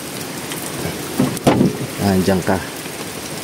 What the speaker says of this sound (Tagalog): Namurok na naman ang ulan.